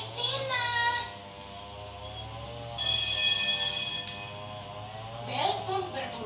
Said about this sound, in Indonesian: Bel pun berbunyi.